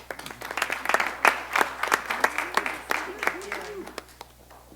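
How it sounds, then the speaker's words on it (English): Applause at a Louisville government funding announcement where a check is presented, claps coming as sparse separate bursts rather than a dense roar, with voices murmuring underneath throughout. "I'll clap for you."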